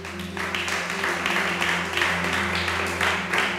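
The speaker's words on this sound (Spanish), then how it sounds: "dale ese aplauso al Rey" Applause from a church congregation during a sermon, a steady wash of clapping lasting the whole stretch over sustained music or organ tones underneath.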